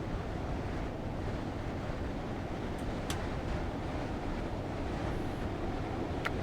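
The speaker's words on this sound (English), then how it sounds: "I like the fact we're getting a bit of wind noise now." Steady rushing wind noise around a commuter train on a London route in Train Sim World 2, a broad continuous roar filling the whole stretch without any voices.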